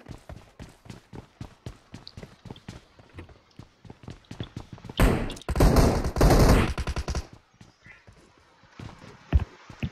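Rapid bursts of gunfire in the battle royale game PUBG, with a dense, loud volley in the middle and scattered nearer and farther shots before and after, over the rhythmic patter of running footsteps.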